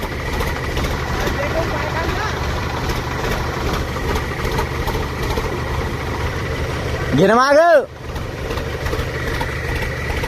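A farm tractor idles beside a drainage ditch, its steady low engine rumble running throughout. Someone shouts instructions over it, and a short rising whistle-like sweep cuts in near the end.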